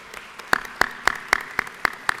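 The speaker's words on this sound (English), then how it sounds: "I want to give them a loud round of applause and thank you so much for everything they do." In a Georgia House of Representatives legislative chamber, evenly spaced, sharp claps ring out about seven times in a steady rhythm over a quiet room.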